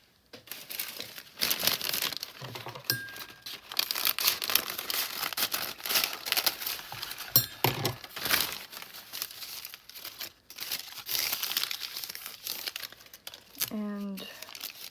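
Book page paper crumpled and crinkled by hand while making a bead, a close, busy rustling with brief pauses and soft talk mixed in.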